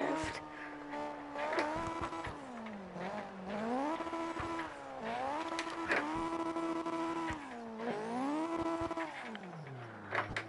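Honda CRX engine revving up and down through downshifts, the pitch rising and falling in repeated sweeps, with sharp clicks and blips between gear changes.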